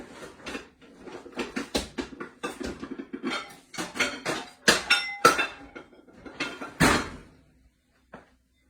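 Clattering of a casserole dish cover being lifted and set down, with scattered clinks and knocks against the dish, close by and irregular.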